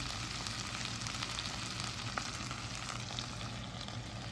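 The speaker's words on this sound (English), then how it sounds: "And just saute it a little bit." Scallions sauté in oil in a pan for a beef and ginger stir fry, giving a soft, even sizzle with no talking.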